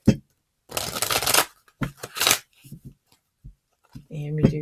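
A deck of soul journey oracle cards gets shuffled in two quick riffling bursts close up, with a few small taps between them and a person talking briefly at the end.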